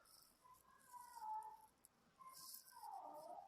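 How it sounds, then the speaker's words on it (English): A pet cat meows quietly indoors in a calm room at home, giving two drawn-out, faint cries with a short pause between them. "You hear my cat?"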